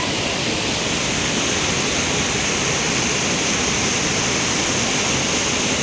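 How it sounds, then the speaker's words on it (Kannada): A steady, loud rush of a waterfall descending a hillside slope roars without a break, a dense, even wash of sound with no voices. "ಬೆಟ್ಟದ ನಡುವೆ ಇಳಿಜಾರಿನಲ್ಲಿ ಈ ಒಂದು ಜಲಪಾತವನ್ನು ನಾವು ಕಾಣ್ಬೋದು"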